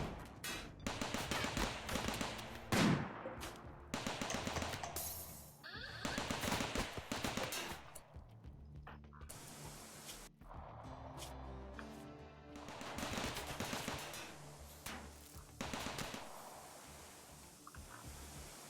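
Mini turrets in the video game RimWorld fire at raiders entering a kill box, giving rapid bursts of gunfire in repeated volleys with short pauses between them.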